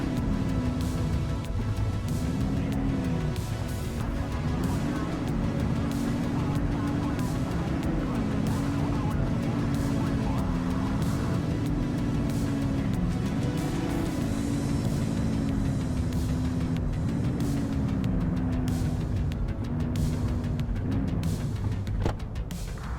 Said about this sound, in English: this doesn't go very fast. But I guess what can I expect? It's a 80s cop car.